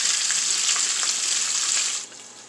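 Green chilli sauce for enchiladas frying in oil in a pan, a loud, dense hiss close by that stays steady, then drops abruptly to a quieter sizzle toward the end.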